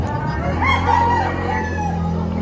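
Rooster crowing among gamefowl in Padre Garcia, Batangas, a single fairly close crow rising and trailing off over a constant low background din.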